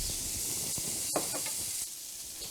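Squash sears in hot oil in a pan, giving a steady, bright hiss and sizzle with a few small pops, close and continuous.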